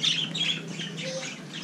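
Birds squawk and chirp inside a pet shop, several harsh calls overlapping at moderate volume over the shop's background hum.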